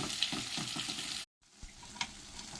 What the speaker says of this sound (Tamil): நல்லா எண்ணெய் பிரிகிற வரைக்கும் வதக்குங்க